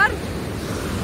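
Sea waves roll onto a beach at Trindade, Rio de Janeiro, where surf runs two to three metres high, a loud, steady wash of broadband noise with wind buffeting throughout.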